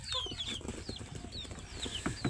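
Free-range local desi chickens cluck and call while pecking at morning feed, short overlapping clucks and chirps close by over a steady farmyard background.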